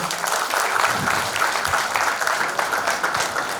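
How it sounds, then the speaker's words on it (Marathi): An audience at a school reunion celebration breaks into strong, even applause, a continuous wash of many hands clapping at moderate distance throughout. "एकदा यांच्याकरता जोरदार टाळ्या होऊन जाऊ देत"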